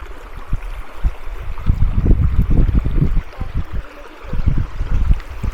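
Water of a mountain stream near Ovčar Banja that flows year-round, heard close as irregular gurgling and splashing bursts, louder in the middle and again near the end, with no talk.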